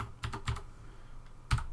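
Brief typing on a computer keyboard: a few quick, soft key clicks, then a pause and one sharper keystroke, close and clear with no voice.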